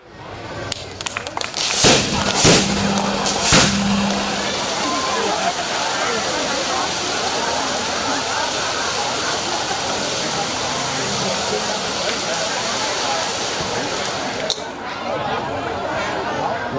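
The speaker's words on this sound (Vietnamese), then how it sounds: "Qua một tràng pháo hoa rất linh động cho cái buổi đại lễ hôm nay" Fireworks burst at a Cao Dai religious ceremony, with a few sharp cracks early on followed by a steady dense crackling roar that fills the rest of the clip, loud and continuous.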